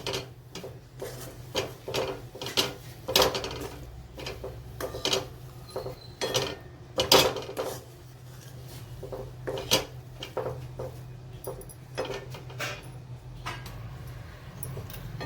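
A spoon scrapes and knocks against a pan while paneer taco filling is stirred with Maggi masala, irregular clatters and scraping strokes close up over a faint steady hum.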